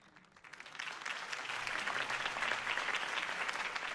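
A crowd applauds after Harvey Dent's campaign speech in the Batman Telltale game, clapping swelling quickly from a quiet start into a dense, sustained ovation.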